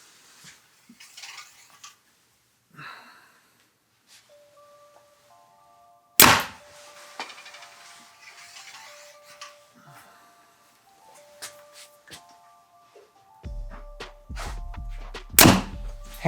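A flagship compound bow in stock factory trim, with no stabilizers or limb dampeners, is shot twice. Each shot is a sharp, clear thunk, with quiet handling noises and a faint ringing tone between them.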